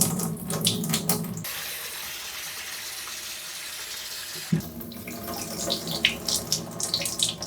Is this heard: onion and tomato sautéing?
no